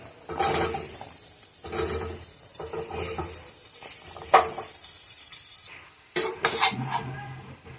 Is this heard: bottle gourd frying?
yes